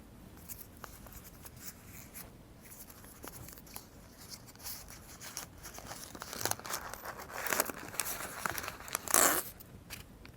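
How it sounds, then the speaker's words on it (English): Oil paper is crinkled and peeled open from around a brand-new China-made 120 series valve assembly, giving close, irregular rustles and crackles that grow louder and busier toward the end, with no talk. "When you open it, the inside is the oil paper to wrap it up."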